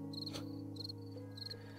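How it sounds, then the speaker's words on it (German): Insect buzzing drifts in through an open door in the 7 Days to Die survival game, a steady high drone swelling in three short bursts over a constant low hum, with no voices. "Du lässt die ganzen Mücken rein"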